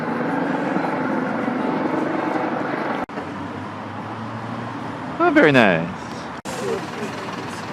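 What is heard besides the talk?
helicopter flying overhead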